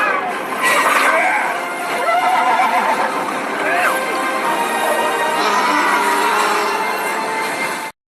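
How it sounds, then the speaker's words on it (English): A seahorse in a film neighs like a horse, with loud, close whinnies repeating over several seconds beneath a voice talking. "The first part was it fucking neighed like a horse."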